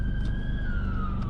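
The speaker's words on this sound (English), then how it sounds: "It's a police car." A police car siren wails steadily in a long falling tone, heard from inside a car under a heavy low engine and road rumble.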